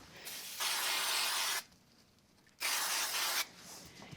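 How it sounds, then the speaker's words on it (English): Two steady bursts of aerosol spray glue onto a card, each about a second long, hissing loudly and close with a short pause between. "I'll use a little bit of spray glue for that"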